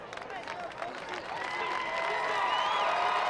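Home-side Grizzly fans at a high school football game applauding and cheering from the far side of the field, a distant crowd roar that swells toward the end beneath a nearby commentator's voice.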